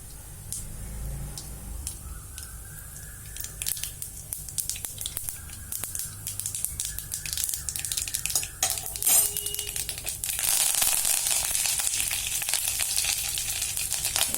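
Curry leaves and dried red chillies frying in hot oil, a continuous crackling sizzle that grows brighter and louder toward the end, with occasional clinks of a utensil against the pan.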